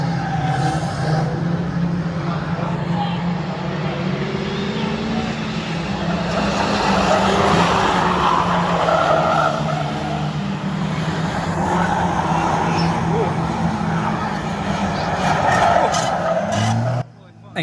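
Race cars roar around an evening track, engines droning continuously with rising and falling whines as they pass, heard from the stands alongside crowd noise and nearby voices.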